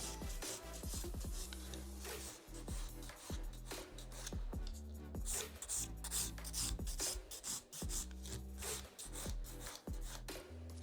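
A nail file rasps back and forth around the cuticle of a gel-polished almond nail, steady close rubbing strokes repeating in an even rhythm, with no talking.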